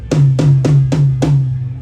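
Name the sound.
tom drum being hit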